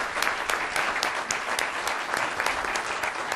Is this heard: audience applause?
yes